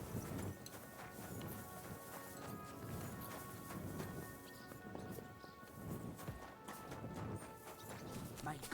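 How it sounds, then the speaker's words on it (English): Horse hooves clip-clop steadily in the video game Kingdom Come Deliverance 2, a close rhythmic trot with background game sounds and a voice speaking faintly. "Easy, good horse."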